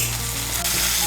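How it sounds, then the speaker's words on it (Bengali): Ginger, garlic and green chili paste sizzles in a hot pan with a splash of water, a steady close bubbling hiss that holds evenly throughout without voices. "আদা বাটা, কাঁচা লঙ্কা বাটা আর রসুন বাটাটাকেও একটু ভেজে নেব।"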